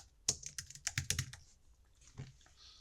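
Computer keyboard keys tapped while adding a text layer in editing software: a quick burst of several close, crisp clicks, a pause, then one or two more keystrokes, quiet and alone with no talk.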